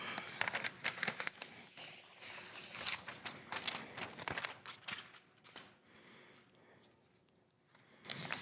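Ceramic window tint film is handled and cut on a Ram truck, with close, quiet crinkling and scraping in irregular bursts that fade to near silence before a final rustle.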